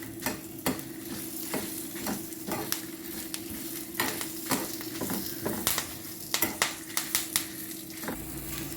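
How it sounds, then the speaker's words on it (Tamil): Curry leaves and chillies frying in a pan for sambar, a steady sizzle broken by frequent sharp stirring clicks and scrapes of a spoon against the pan, close up with no talking. "இப்போ வந்து கருவேப்பிலையும் மிளகாவும் போட்டு வறுத்துக்கணும்."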